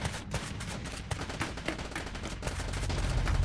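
Dense, continuous gunfire from the video game Polybattle, rapid overlapping shots forming a loud, unbroken barrage throughout.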